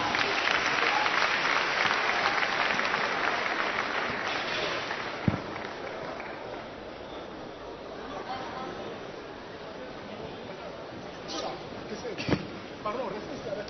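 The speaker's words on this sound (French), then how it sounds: "On l'applaudit, s'il vous plaît." A studio audience at a televised New Year show applauds a guest, a sustained wash of clapping from many hands that gradually softens, with a few sharper claps and faint murmuring beneath.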